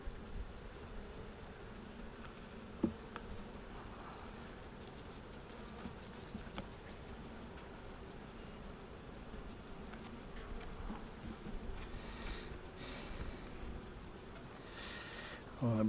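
Honey bees buzz steadily throughout a first spring inspection of a hive in New Hampshire, a dense, even drone close to the open colony with faint handling noises and no talk.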